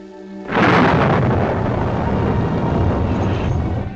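A heavy thunderclap breaks out over a storm in the Catskills and rolls into a loud, sustained rumbling roar that slowly tapers, with no voices.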